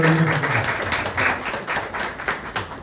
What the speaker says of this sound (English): So, a round of applause for Eunice.